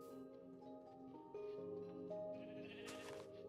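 Sheep bleating inside a video game, with several drawn-out bleats overlapping a steady musical backdrop at moderate level and no talk.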